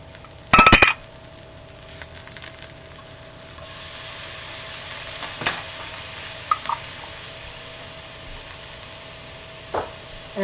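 Garlic cooks quietly in a pan with a faint, steady sizzle, broken by a sharp clatter near the start and a few light clinks and scrapes of a utensil stirring.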